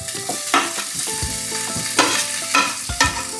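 Chopped onion and capsicum fry in a little oil, a close crackling sizzle under repeated scraping and clattering stirs of a spatula in the pan, with no voices.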